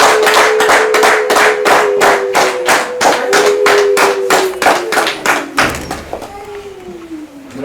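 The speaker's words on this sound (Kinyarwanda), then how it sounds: "tumuhereze amashyi" Rhythmic clapping at a gathering, a steady run of sharp hand claps about three per second, loud and close, with a sustained voice-like tone running beneath and the beat loosening toward the end.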